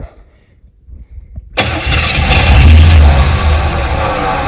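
A Chevy Monte Carlo SS engine cranks after near silence with a few faint noises, catches loudly and settles into a rough, rumbling idle.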